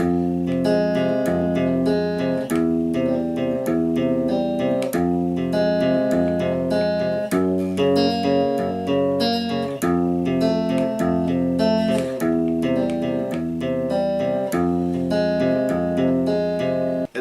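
Steady piano left-hand part played alone, repeating low broken-chord patterns in a continuous, even rhythm with no voices.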